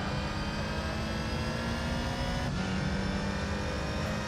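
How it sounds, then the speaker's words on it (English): A V8 race car engine in Gran Turismo 3 drones loudly and steadily at a constant pitch with a NASCAR-like tone, and a brief shift occurs midway with no voices over it. "it's just basically a slightly different sounding V8"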